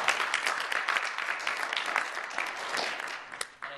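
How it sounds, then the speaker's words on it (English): Steady audience applause from a chapter meeting, dense clapping filling the whole stretch with a few sharper claps standing out and a brief dip near the end; no one speaks over it. "So give yourselves a round of applause."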